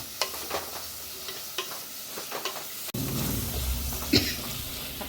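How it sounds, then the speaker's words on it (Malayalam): Chopped onions sautéing in a pan for a fish kurma: a steady sizzle with light scraping stirs, growing louder and fuller partway through, with a sharp clink near the end. "ഉള്ളി ഒന്ന് വഴന്ന് വരട്ടെ കേട്ടോ"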